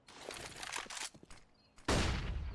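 Gunfire in a competitive shooter video game match, with a pistol in play: faint scattered shots and footsteps, then one loud, close burst of fire near the end.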